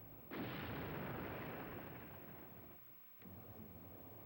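A grenade explosion in the PS1 game Men in Black: The Series – Crashdown: a loud, broad boom that swells in and rumbles for over two seconds, then fades before a second blast hits.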